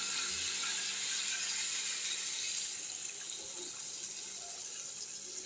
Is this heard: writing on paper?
no